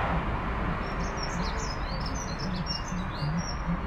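Outdoors, a small bird gives a string of quick, high chirps and tweets, moderately near, over a constant background rush of wind or distant traffic.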